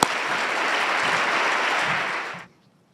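A crowd at a youth awards ceremony applauds steadily, a dense wash of clapping that holds for a couple of seconds and then stops abruptly.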